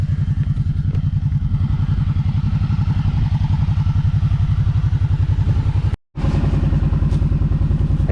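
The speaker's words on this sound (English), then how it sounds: "I'll take the four-wheeler, go see if we got a man down." A four-wheeler ATV engine runs steadily and loud up close in rural northern Wisconsin, its rapid even pulsing broken by one brief dropout near the end.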